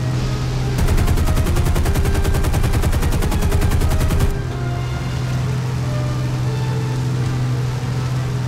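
Anti-aircraft gunfire in War Thunder, a loud, rapid, evenly spaced machine-gun burst lasting several seconds, set against a steady engine drone that carries on alone after the firing stops.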